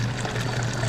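Hot water pouring steadily from an instant hot water tap into a pot of split pea soup, a brief continuous splashing stream heard close up with no talking.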